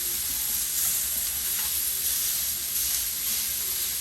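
Three steaks sear in a hot pan, giving a steady, close, bright sizzle and hiss with no talking.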